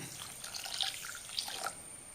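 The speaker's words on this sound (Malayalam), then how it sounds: "ഇതിലേക്ക് ഒരു കപ്പ് വെള്ളം ചേർക്കണം" Water poured from a cup into one cup of coarse roasted rice flour for onion carrot puttu, a soft, brief trickle and a few light splashes close by, quiet and without talk.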